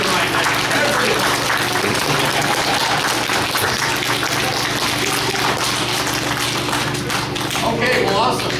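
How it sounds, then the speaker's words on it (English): Schoolchildren, parents and teachers applaud together at a kids' award gathering, a dense continuous patter of clapping filling the room with a steady low hum beneath it. "let's give your parents and also your teachers a round of applause for their good work too"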